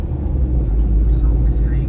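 Car driving up a mountain ghat road near Malshej Ghat at night: a loud, steady low engine and road rumble fills the clip, with a person talking over it.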